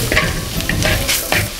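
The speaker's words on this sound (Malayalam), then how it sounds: "ഇനി നമുക്ക് നേരത്തെ എടുത്തു വെച്ച തക്കാളിയുടെ പകുതി അരിഞ്ഞത് ഇപ്പോൾ ചേർക്കാം. എന്നിട്ടൊന്ന് വഴറ്റി കൊടുക്കാം." Chopped tomato with spice powders being sautéed for a coconut milk chicken curry, a steady close sizzle broken by a few quick spatula scrapes and stirs against the pan, with no one talking.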